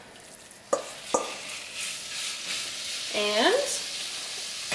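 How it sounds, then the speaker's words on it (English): Ground beef browns in a camp pan warming over heat, a low steady sizzle running throughout, with a few sharp clanks of a utensil against the pan and a brief scraping sweep near the middle. "we're gonna get that ground beef browned here."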